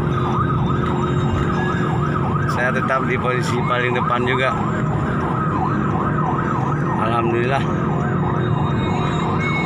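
Wailing ambulance siren, a repeating rising-and-falling tone, on a road journey into Jambi escorted by police motorcycles, steady under engine rumble with someone talking over it.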